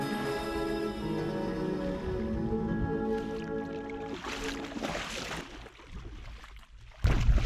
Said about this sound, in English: We sound like a bunch of horses running through the water.